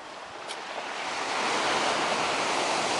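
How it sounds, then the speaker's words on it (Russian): Sea waves break on a beach on a very windy day, a loud, steady roar of surf and rushing air that swells slightly and continues with no voices. "Море шикарное, конечно, с волной."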